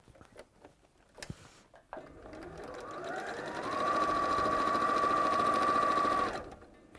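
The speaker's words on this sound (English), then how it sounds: "we're pinning those together and sewing along that raw edge" Sewing machine stitching a quarter-inch seam along the raw edge of pinned quilt pieces, a few soft handling clicks and then a steady, close whirring run of several seconds that stops cleanly near the end.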